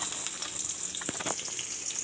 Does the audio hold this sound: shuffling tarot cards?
no